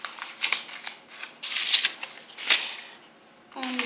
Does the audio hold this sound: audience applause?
no